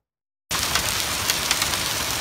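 Steady rain falls in Phoenix during a passing shower, a dense, even hiss of drops on pavement that starts abruptly after a brief silence and stays loud and constant.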